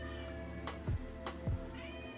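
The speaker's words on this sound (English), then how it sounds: "hear my cat" A cat gives two short low meows, moderately close, over a steady background hum with no talking.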